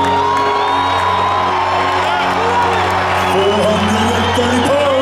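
A strongman competition crowd at the Arnold Classic cheers and whoops steadily, a loud sustained roar with scattered shouts throughout.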